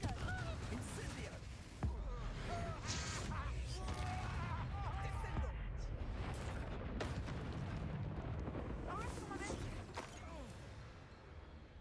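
Confringo and Incendio spell blasts fire off in a video game duel, a series of sharp booming bursts over a busy bed of game noise and music while a voice talks throughout.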